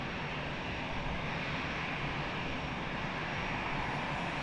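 An airliner takes off at Lisbon Airport, its engines a loud, steady, broadband roar that stays constant throughout, heard alone with no voices.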